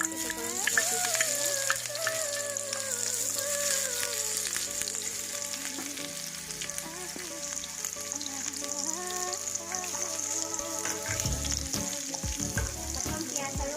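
Chopped onion and a few green chillies fry in hot oil in a pan, a steady loud sizzle running throughout with occasional stirring scrapes and faint background music, and a short burst of clatter near the end.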